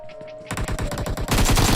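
Rapid bursts of automatic gunfire fire through smoke in a first-person shooter, a short quick rattle that starts quietly and then grows louder and denser.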